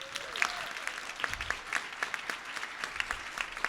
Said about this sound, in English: That's worth an applause.